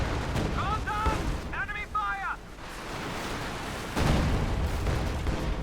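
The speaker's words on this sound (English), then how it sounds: "he's basically, I think, bombarding the Schwerpanzer quarters" Artillery shells pound a position in the Company of Heroes 2 strategy game, dull booming blasts rumbling under a caster's steady commentary, with brief whistles of incoming shells.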